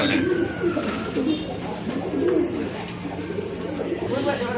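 Pigeons coo in soft repeated bursts at a busy pigeon market, with red and Danish pigeons among the birds, the cooing steady and fairly close over crowd murmur and occasional talk.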